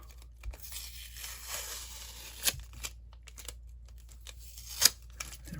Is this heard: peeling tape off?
yes